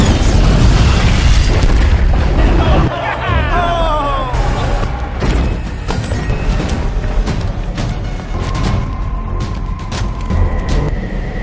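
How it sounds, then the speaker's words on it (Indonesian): A car blows up in a loud opening boom that settles into a long rumbling, crackling burn with scattered pops and debris over several seconds. "mobil itu berhasil meledak"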